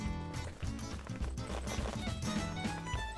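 Horse hooves clip-clop in a video game, a steady rhythmic trotting beat set against a busy musical backdrop, with no clear speech.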